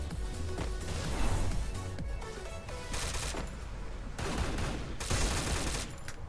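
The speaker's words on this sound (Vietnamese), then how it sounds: "Bắn shotgun các bạn ơi." Rapid gunfire in the battle royale shooter Free Fire, with shotgun blasts and sharp shots bursting in quick clusters, loud and close, with a few short pauses between volleys.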